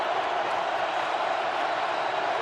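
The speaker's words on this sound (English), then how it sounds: "the crowd's all over it. It's getting loud." A packed stadium crowd at an NFL football game roars in a loud, continuous, unbroken wall of noise.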